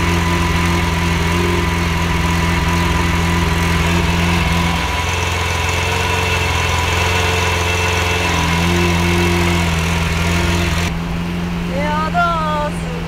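Lamborghini Aventador SV Roadster engine idling with its exhaust valves open, a loud steady low rumble running throughout while people talk over it.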